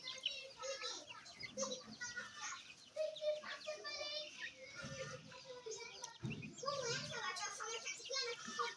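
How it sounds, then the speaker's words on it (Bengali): Month-old desi and tiger chicken chicks at play in a yard, a dense stream of high peeping chirps with a few louder calls, going on steadily throughout at close range. "আমার 1 মাসের মুরগির বাচ্চা"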